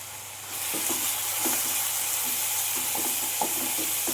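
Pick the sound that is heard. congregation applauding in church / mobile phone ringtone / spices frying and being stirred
spices frying and being stirred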